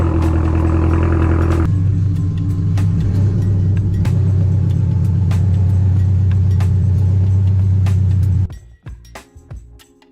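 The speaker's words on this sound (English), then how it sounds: "Let's go ahead and get the 86 all started up, pull it back into the garage" A 2022-or-later Toyota GR86 engine cranks and fires, settling into a loud, steady idle rumble close by for several seconds before it cuts off abruptly, leaving quieter clicks and movement.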